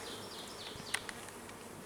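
Honey bees buzz steadily around a hive frame filled with bees, a faint continuous drone with a couple of brief louder passes close by.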